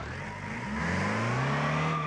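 A van engine in BeamNG.drive revs steadily upward, its pitch climbing as the throttle is held open, a loud, close, continuous drone with no other sound.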